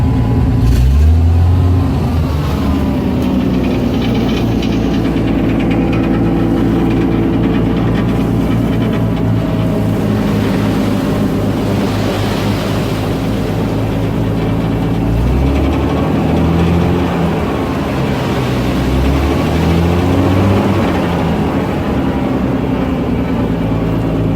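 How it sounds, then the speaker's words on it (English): A dump truck idling heavily while its bed raises, a continuous deep engine drone with shifting low rumbles and mechanical strain over about twenty seconds, no voices. "Release that. Now the bed's gonna go up."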